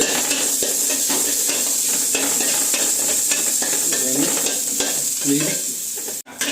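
Curry leaves and onions sizzle loudly in hot oil in a pan for upma, a close, continuous crackling hiss with stirring scrapes and clinks running throughout.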